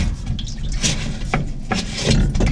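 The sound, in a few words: water coming out of Whirlpool Duet washing machine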